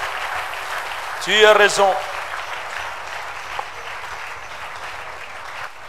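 Church congregation applauding the Lord while standing, a steady wash of clapping throughout with a brief spoken phrase in French over it.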